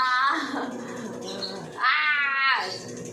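A pet cat meows loudly and up close in two drawn-out, strained cries, the second rising sharply, with household voices faintly underneath.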